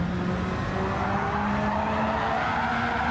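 A front-wheel-drive Renault Twingo in Gran Turismo 7 spins its tyres, a continuous squealing whine with rising engine tones, steady and fairly loud throughout.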